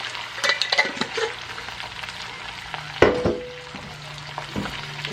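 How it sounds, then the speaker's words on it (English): Food with garlic powder and soy sauce fries in a pan while being stirred, giving a gentle sizzle broken by sharp utensil clicks and scrapes, one louder knock near the middle. "Just kind of stir that about."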